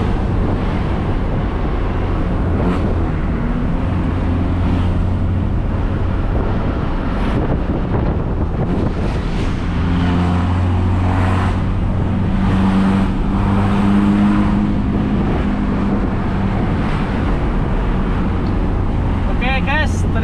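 Mitsubishi L300 engine running with a coiled aftermarket exhaust, a steady deep bass rumble that holds loud and continuous for the whole stretch, with some wind buffeting over it.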